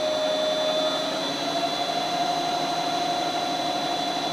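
A steady, even whine with a constant hum from a GM 6L automatic transmission running in fifth gear, unbroken and moderately loud with no talk.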